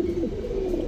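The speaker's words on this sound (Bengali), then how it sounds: "বাইরের কবুতর।" A single pigeon coos close by, one short low throaty phrase with a slight wobble, heard alone in a pigeon-keeping setting.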